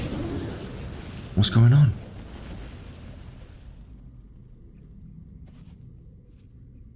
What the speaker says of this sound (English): Oh, an explosion.